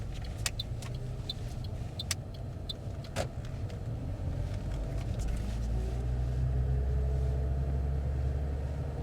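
A car's engine idles steadily after a restart during a driving lesson, a low continuous rumble inside the cabin with a few faint clicks and ticks over it, growing slightly louder toward the end.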